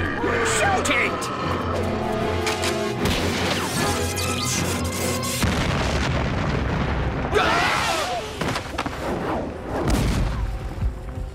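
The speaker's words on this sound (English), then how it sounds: "that was a big blast for one stick of dynamite" Cartoon dynamite blast from an animated Tarzan adventure: loud, dense explosive crashes and bursting debris filling the stretch, with repeated heavy booms over a busy music and effects bed.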